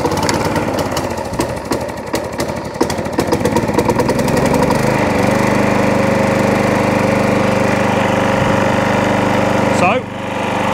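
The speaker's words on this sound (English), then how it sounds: "So, flat out revs. It's a bit smoky, not been run for a little while." A slightly smoky petrol lawn mower, unrun for a while, holds a steady flat-out roar at full revs without hunting or surging, loud and close, then cuts off abruptly near the end.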